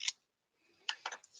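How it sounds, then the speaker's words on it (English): Scissors snip off small triangles from the top of a paper gift bag: two or three quick, crisp cuts after a brief quiet pause, close and fairly soft. "And then I will cut off the little triangles at the top."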